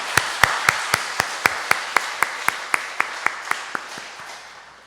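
A church congregation claps for its men's fellowship on Men's Fellowship Sunday, the claps slow and evenly spaced, a dozen or more sharp strikes that fade gradually, with no talk.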